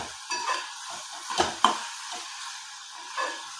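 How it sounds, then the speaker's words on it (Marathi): Potato pieces stir-fried in masala for a pea and potato curry in a pan, a soft steady sizzle with a few scraping stirs and one or two sharper clinks, quiet and close with no talk. "आता थोडा वेळ बटाटा परतू आपण."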